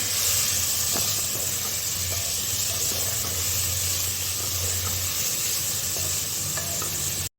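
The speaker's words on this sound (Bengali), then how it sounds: "গাজর, কুমড়ো সব একসাথে দিয়ে দিলাম। ভালো করে সবগুলো আমি ভেজে নেব।" Carrots, pumpkin, beans, tomato and green chilli fry together in a pan, a loud steady sizzle and hiss with occasional stirring scrapes, close up and continuous with no talking.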